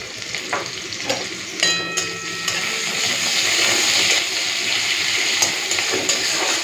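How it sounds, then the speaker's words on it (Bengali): Panch phoron spices sizzle in hot oil as tempering for masoor dal with chopped onion and slit green chillies, a loud continuous hiss with crackling pops and stirring scrapes close up. "পাঁচ ফোড়ন দিয়ে দিচ্ছি মসুর ডালে"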